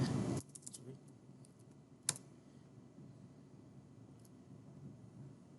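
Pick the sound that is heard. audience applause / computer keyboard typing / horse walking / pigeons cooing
computer keyboard typing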